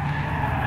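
Tyres skid and squeal as Theo's car drifts, a short continuous screech over a loud engine drone, close and sustained throughout.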